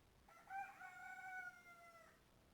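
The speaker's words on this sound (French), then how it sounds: "je m'excuse hein, pour le coq, si jamais vous l'entendez à la vidéo" A rooster crows once outside an open window, a clear, drawn-out cock-a-doodle-doo lasting about two seconds over a quiet indoor background.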